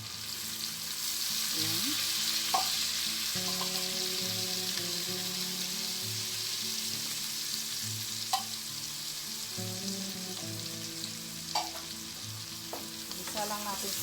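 Mushrooms sauté in a pan for carbonara, a steady close sizzle and crackle with stirring scrapes and occasional clinks running throughout, while music plays softly underneath.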